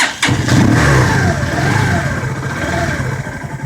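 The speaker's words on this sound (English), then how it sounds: "the engine's running" A Zontes motorcycle engine kicks into life with a sharp start, then settles into a steady, close idle with a slight wavering tone.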